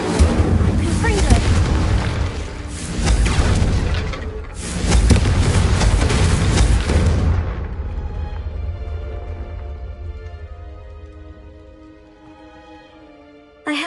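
A Confringo explosion spell is cast in a video game, bursting into two loud, rumbling blasts with crackling debris. The din slowly fades into a ringing tail before a sudden sound cuts in at the end.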